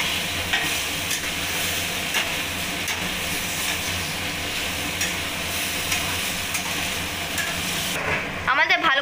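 Boiled chickpeas are stirred into chicken curry in a pan, producing a steady, dense frying sizzle with soft scraping from the stirring, close and continuous, ending in a brief clatter.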